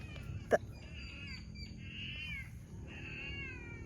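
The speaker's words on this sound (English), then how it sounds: "Sorry, cat's in heat, man. It's the neighbor's cat." Long drawn-out wails from a cat in heat rise and hold over a low rumble, with a sharp thump near the start.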